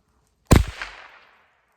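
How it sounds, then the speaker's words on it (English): .22 Long Rifle fired into a hardcover book backed with tile, one sharp close crack that rings out and decays over about a second, alone in quiet. "we're gonna shoot it with a 22 long rifle and see how it does"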